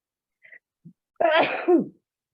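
A single sharp, close sneeze bursts out after a couple of faint little sounds, then quickly trails off into silence.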